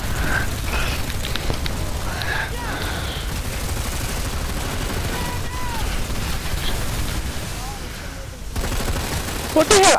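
Dense, continuous gunfire from a PlanetSide 2 battle crackles loudly throughout, rapid automatic bursts layered into a steady fusillade with a brief lull near the end before shots resume; voices are faintly present beneath the shooting.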